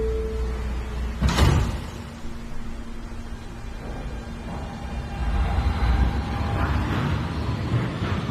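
An NYC subway R160B train's doors sliding shut with a sharp thud, followed by the steady hum and rumble of the car, with no talk.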